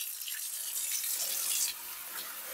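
Water poured into a hot cast iron pan during cleaning, a faint hissing, splashing wash of liquid that swells briefly and then eases into a softer fizz.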